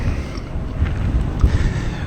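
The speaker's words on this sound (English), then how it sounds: "the wind is pretty horrendous." Strong, steady wind roars and buffets the microphone during a solo bikepacking ride in the Lincolnshire Wolds, a continuous low rumbling gust that fills the whole stretch with no speech over it.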